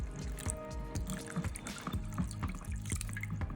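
Watery kokum paste pours and trickles through a strainer, the liquid rinsed out of a blender. There is a steady splashing flow with drips, close and moderately loud, and no talking.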